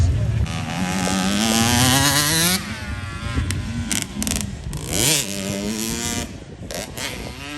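Dirt bike engines rev and whine at a motocross race finish, rising and falling in pitch as riders shift gears, loud and close, with a person shouting excitedly over them.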